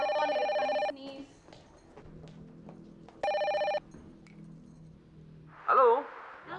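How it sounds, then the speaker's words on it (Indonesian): A telephone rings indoors in two loud electronic bursts separated by a quiet gap, with faint background sounds and a brief voice near the end. "Farida, biar saya aja yang angkat teleponnya."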